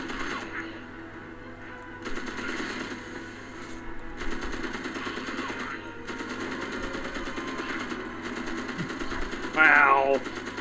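Rapid automatic gunfire from the video game Magicka, a fairly steady rattling burst that runs through most of the stretch at moderate level, mixed with game sounds and a louder flare near the end.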